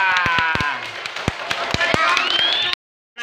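Children clapping at a school digital reading-corner event, a scattered burst of uneven sharp claps mixed with children's voices and chatter, fairly loud and close, stopping abruptly near the end.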